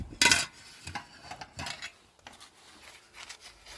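A titanium spork with a small hook attachment clinks and scrapes in close handling, one sharp metallic rattle at the start and then a scatter of lighter taps and clicks, quiet throughout.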